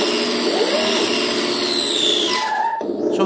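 A JLB Cheetah RC truck fitted with a realistic engine sound mod revs up steadily with a whining, rising synthetic engine tone that drops off near the end.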